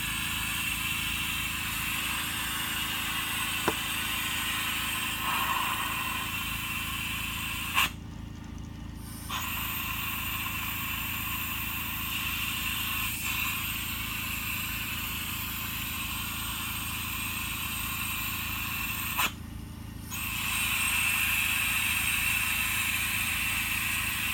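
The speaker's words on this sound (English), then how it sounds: "in the background, you can actually hear my air compressor turning on" An air compressor hums steadily in the background of a garage during brake bleeding on an ND Miata. Its drone carries on for the whole stretch, broken by two short dropouts.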